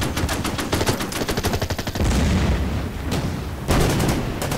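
Artillery and gunfire in the Pacific war strategy game Order of Battle Pacific: rapid machine-gun bursts give way to heavy booming blasts, loud and dense, with a further crackle of shots near the end.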